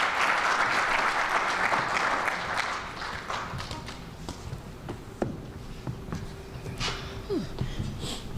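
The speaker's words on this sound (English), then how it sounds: "Can we give them an amazing round of applause?" Crowd at a Chicago civic event with the mayor gives a round of applause, starting as dense, loud clapping and thinning over several seconds into scattered claps and light taps.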